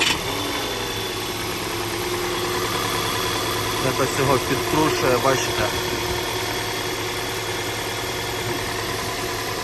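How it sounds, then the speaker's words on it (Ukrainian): A 2015 Volkswagen Tiguan engine idles unevenly and shakes, with a steady low rumble and slight shaking rhythm, while someone talks over it. "зараз заведемо двигун, послухаємо, як він працює"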